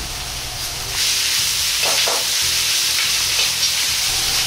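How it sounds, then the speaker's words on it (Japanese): Green peppers, bamboo shoots, ginger and ham stir-fry over high heat in a pan. A loud, continuous sizzling hiss runs throughout, with faint clatter from stirring and no voices. "生姜を入れ軽く炒めたらピーマンとタケノコも入れて炒めます。"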